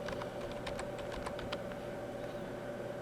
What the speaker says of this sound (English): I'm going to type in the word